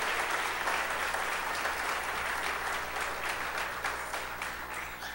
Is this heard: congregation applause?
yes